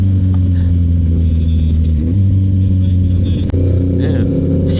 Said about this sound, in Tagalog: CF Moto 650 MT 2019 model, twin cylinder, 650cc.